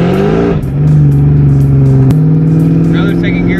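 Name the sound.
supercharged Mustang GT full-throttle second gear pull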